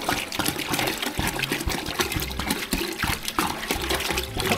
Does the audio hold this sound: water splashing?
yes